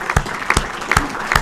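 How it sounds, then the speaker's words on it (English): A room full of people applauds in Bradenton, the clapping loud and close with sharp repeated bursts and a steady patter in between, and no voices are heard. "So a round of applause for everybody in this room,"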